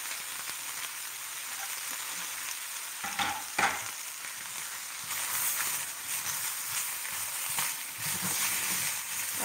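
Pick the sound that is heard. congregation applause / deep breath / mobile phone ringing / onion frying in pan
onion frying in pan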